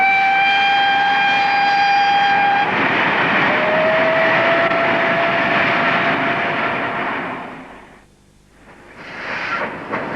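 A train whistle sounds at first, then steam locomotives, the Flying Scotsman and Pendennis Castle, rumble and hiss past steadily near Jandakot, Western Australia, before fading away, with a brief return of noise at the end.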